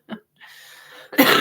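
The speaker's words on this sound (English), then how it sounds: "pardon for the coughing" A short cough, then a brief pause and breathy throat noise, ending in a loud, harsh burst of coughing up close.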